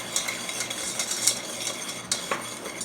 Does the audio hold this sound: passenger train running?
no